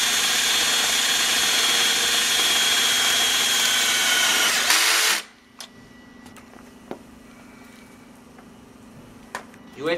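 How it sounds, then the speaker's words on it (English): A power drill drives a self-drilling screw into a LiteFENCE panel, a loud continuous whir for about five seconds that stops abruptly, leaving quiet room tone with a few light clicks. "In the box you will also see a self-drilling screw you have to insert"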